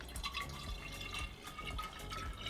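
Liquid pours into a measuring container while yeast is being harvested, making a continuous burbling, trickling splash with small glugs and drips, fairly quiet and close, with no voices.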